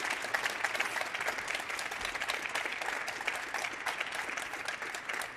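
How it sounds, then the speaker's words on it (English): Audience applause at a hackathon final, a dense, steady wash of clapping from a crowd, sustained and moderately loud from start to finish. "give them the biggest possible applause"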